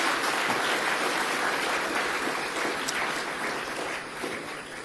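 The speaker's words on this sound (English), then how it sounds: "I think that Elif deserves an applause" At a space travel conference, an audience applauds to thank an organizer, giving a continuous, even wash of clapping that holds steady for several seconds before easing slightly toward the end.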